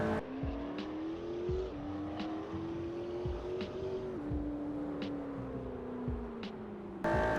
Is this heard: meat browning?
no